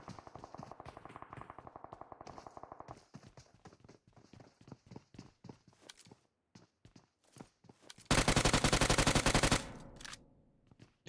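Gunfire in PUBG Mobile during a national championship semi-final match, with a rapid string of sharp shots early on, then scattered pops and footsteps, and a loud sustained burst of automatic fire near the end.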